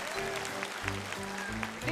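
A studio audience at a Vietnamese game show claps, with a short, dense burst of applause over a steady musical background.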